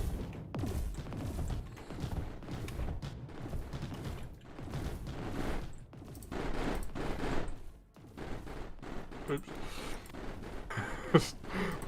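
Five Lancer turrets in the game Mindustry fire together in a dense barrage, loud booming volleys that repeat almost continuously, with sharp cracks and heavy thuds layered over a rumbling low end and no pause in the shooting.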